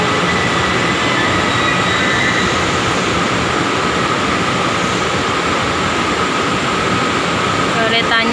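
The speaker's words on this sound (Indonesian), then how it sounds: "ini keretanya datang ya teman-teman, tapi ini yang arah ke Suau ya" A train rolls into a station at Luotong, Yilan, a loud, steady rumble and rushing roar that fills the platform, with a brief squeal near the end.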